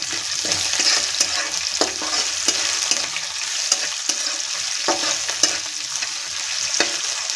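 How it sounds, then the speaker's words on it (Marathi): Diced potatoes and chilies are stirred in hot oil while making kande pohe, a spoon scraping the pan in irregular strokes over a steady close sizzle, with no talking. "बटाटे हे छान असं मिक्स करून घ्यायचं"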